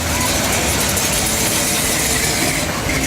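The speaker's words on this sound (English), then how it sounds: "1969 Dodge Charger," A 1969 Dodge Charger with a 440 V8 and 4-speed manual rumbles loudly and steadily at close range, a dense, unbroken engine roar filling the whole moment.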